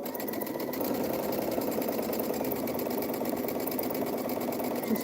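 A sewing machine chain-pieces quilt pieces, running in a steady fast continuous hum with rapid needle clatter, fairly quiet and close.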